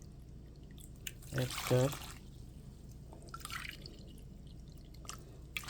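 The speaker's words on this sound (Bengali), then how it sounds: "মিক্স করে 2 কাপ কুসুম গরম দুধ দিয়ে দেব।" Lukewarm milk is poured into batter for steamed rice cakes in a brief wet splash and trickle lasting under a second, surrounded by a quiet room and someone speaking in Bengali.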